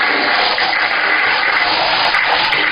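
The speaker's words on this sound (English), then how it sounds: "I'm going to flush it." A toilet flushing after a new ballcock fill valve is installed, a steady loud rush of water running continuously and close by with no break.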